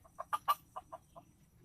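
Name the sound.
chickens clucking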